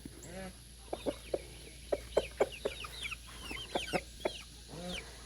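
Lavender Orpington chicks and young guinea keets peep in a steady scatter of short, high chirps, several birds calling close by at moderate volume with no talk.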